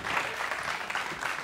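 Studio audience applauding on the Greek game show Wheel of Fortune, a short burst of steady, dense clapping from a crowd, moderately loud and unbroken.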